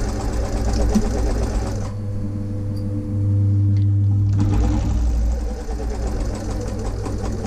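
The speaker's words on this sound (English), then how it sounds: "very slow back stitches, and then we're going to go along, matching our seam edge with our seam guide" A sewing machine stitches a seam on a drawstring bag, starting with a few slow back stitches and then running steadily. Its close, whirring motor and rhythmic needle clatter briefly change pace in the middle.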